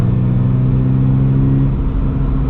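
A 2022 Subaru BRZ with the FA24 flat-four engine revs loudly and close, a steady throaty drone with a strong low hum that eases slightly near the end.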